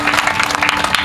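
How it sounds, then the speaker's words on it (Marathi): An audience at a Marathi religious discourse claps hands in a steady, dense patter of applause that fills the full second without a break. "टाळी जरा मोठ्यानं वाजवा"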